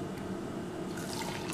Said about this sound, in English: I'm just gonna put a splash of cranberry juice.